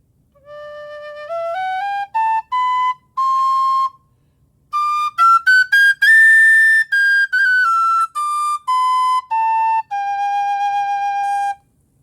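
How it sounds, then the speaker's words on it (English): A penny whistle plays the Skye Boat Song alone, a bright, clear melody with notes rising and stepping up and down and a short pause partway through. "this time I'm going to play it on the penny whistle"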